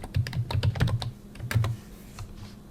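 Rapid clicking of a computer keyboard as a password is typed during Linux Mint setup, a quick burst of close keystrokes that slows and fades toward the end, with no talking.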